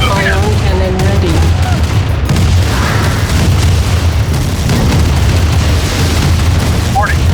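An Ion Cannon strike hits a Nod temple in Command & Conquer Remastered, a loud sustained roar of explosive rumble and crackling blasts that fills the whole stretch, with faint game voice cues near the start.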